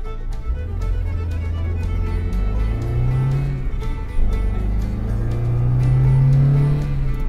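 A Saturn wagon's engine hums and rises in pitch as it accelerates, droning steadily and close by with no talking.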